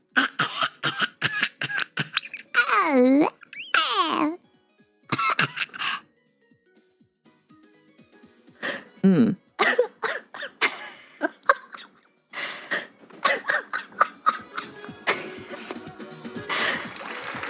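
A performer's voice imitates a baby coughing in a coughing contest, giving repeated short squeaky coughs and throaty splutters in bursts, some rising and falling in pitch, with a quiet pause midway before more rapid coughing bursts.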